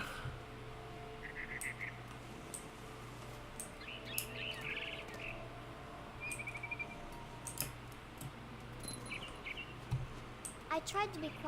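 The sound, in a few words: barn swallow chirping in the video game What Remains of Edith Finch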